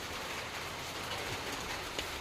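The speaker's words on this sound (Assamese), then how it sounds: "ক্ৰিকেট খেলি আছিলোঁ, হঠাৎ আহি গ'ল বৰষুণ।" Sudden rain falling where cricket was being played, a steady, dense patter and hiss of drops on surfaces, fairly faint and continuous with no voices.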